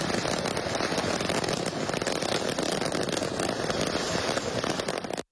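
Fireworks go off from a trailer on a dark highway, a dense, continuous crackling and popping barrage that holds steady and loud before cutting off abruptly.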